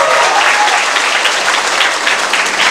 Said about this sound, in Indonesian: Tepuk tangan ke 53.